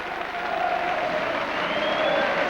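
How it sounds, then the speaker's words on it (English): Steady, sustained applause from the crowd at a 1994 rugby league cup tie between St Helens and Doncaster, a continuous rushing patter of clapping that holds at an even level throughout, with faint commentary beneath. "the Doncaster players go all round the ground, applaud their travelling public"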